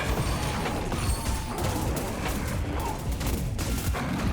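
Boss unleashing walls of bullets in Cult of the Lamb combat, a dense, continuous barrage of rapid gunfire-like bursts and crashes, loud and relentless throughout with no talk.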